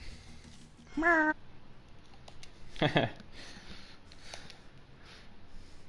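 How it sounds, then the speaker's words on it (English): A cat meows twice in a quiet room, a short clear call near the first second and a louder, rougher one about two seconds later, close by against faint background noise. "It's not my cat, though."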